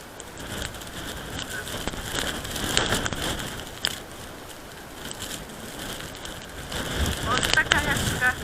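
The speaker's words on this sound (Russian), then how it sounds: "Вот такой вот у нас сегодня буран." Blizzard wind drives blowing snow through the streets of Astana, gusting and hissing against the microphone in uneven surges while a person talks over it.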